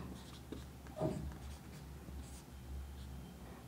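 Pen or chalk scratching softly while Sanskrit time expressions are written by hand, with a brief louder stroke near the start over a steady low hum.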